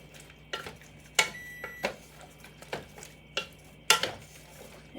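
A spoon stirs two cans of diced tomatoes in a cooking pot, producing a series of soft, close scraping and knocking strokes at an unhurried rhythm, about seven in all, alone with no talk.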